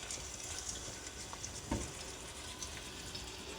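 Hand-shaped minced-meat muthi kebabs cooking in hot oil give a soft, continuous sizzle with faint crackles and one brief clunk midway, fairly quiet and without talk.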